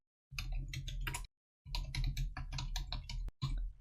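A command being typed on a computer keyboard in bursts of rapid, close key clicks, with a short pause between two runs and a single sharper keystroke near the end.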